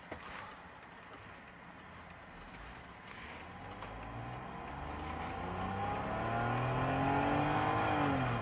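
A 2.2-litre BMW E60 520i engine is held at a steady idle, then climbs in pitch as the revs build to a sustained high note near the end, with a low rumble underneath throughout.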